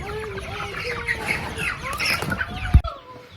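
Caged turkeys, meat chickens and guinea fowl cluck and chatter together in a brooder converted from a late-1950s Holiday Rambler camper, a dense overlapping chorus of close bird calls with a brief thump near the end.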